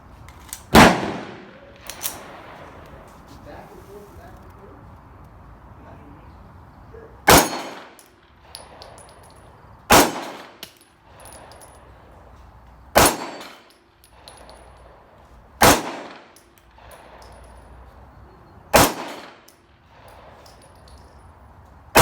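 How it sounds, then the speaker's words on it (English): A Smith & Wesson 5906 pistol fired at steel targets, with seven loud, sharp shots spaced a few seconds apart, each followed by a metallic ring, in a quiet outdoor setting. "first time being fired in about 20 years, brand new in the box, Smith & Wesson 5906, steel on steel"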